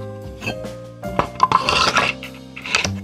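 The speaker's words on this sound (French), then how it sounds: "Vous versez donc tout le grain, toute la moulure donc" Ground coffee being poured from a container into a fine coffee filter, giving a soft granular rasp and scrape in a few short bursts, close up with no talking.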